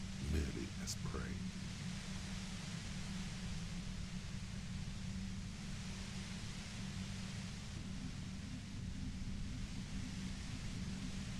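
Radio static hiss in the video game Disco Elysium, a continuous broadband white-noise wash with a low hum beneath, steady and fairly quiet for the whole stretch.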